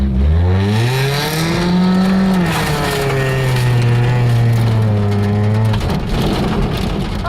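A motorized wheelbarrow fitted with an E-Z mud motor revs hard under load, its engine pitch rising then settling into a steady, loud drone before cutting off near the end.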